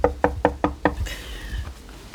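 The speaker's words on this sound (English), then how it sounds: "Knock on the door." Knocking on a door: five sharp, evenly spaced raps in quick succession, close and clear, followed by a short muffled stretch of room noise.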